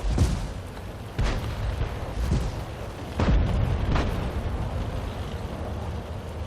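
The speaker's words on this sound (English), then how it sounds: "And I'm firing through the gaps." Tank cannon shots in World of Tanks boom out several times at irregular intervals, each a heavy thump with a lingering rumble, fairly close and standing alone without talk.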